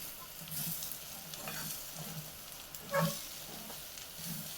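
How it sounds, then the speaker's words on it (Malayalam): Chicken sausage pepper fry sizzles in an open pan, a steady crackling fry with soft spoon scrapes and one louder stir knock near the middle, close up and moderately quiet, no talking. "ഇനി ഒരു 2-3 മിനിറ്റ് നമുക്കിത് തുറന്ന് തന്നെ വെച്ചൊന്ന് ഫ്രൈ ആക്കിയെടുക്കാം."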